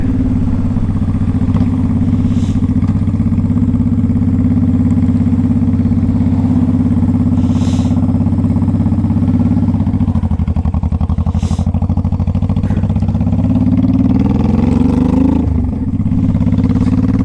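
A 2005 Honda Shadow Saber 1100 motorcycle engine idles loudly and close by with a steady deep throb, its tone shifting slightly near the end, with no talking.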